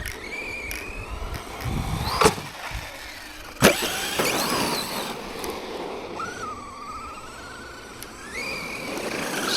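An ARRMA Granite 3S BLX RC car with a stock brushless motor, 15-tooth pinion and centre diff, whines and revs in rising and falling pitch sweeps close by, with a couple of sharp knocks partway through.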